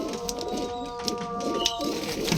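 Madras pigeons, a male and a very aggressive female, coo softly and repeatedly at close range over a steady background hum, with no talking.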